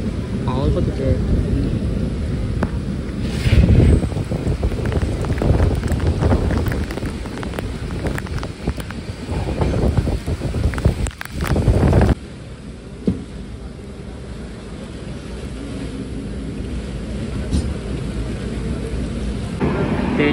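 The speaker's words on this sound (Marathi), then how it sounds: "पाऊस बघ किती पडतोय." Heavy monsoon rain pours outside a Konkan Railway Janshatabdi Express train, heard from inside the carriage as a loud, steady roar with rumbling train noise that eases partway through.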